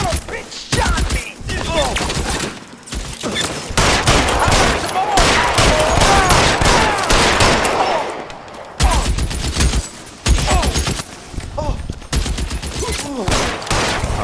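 Gunfire in L.A. Noire, loud bursts of rapid shots and scattered single cracks in a sustained firefight with brief pauses between volleys.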